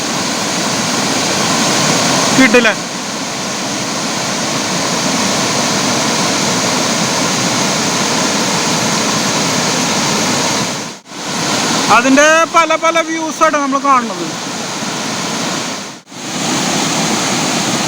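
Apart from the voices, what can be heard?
Choriyankunnu waterfall roaring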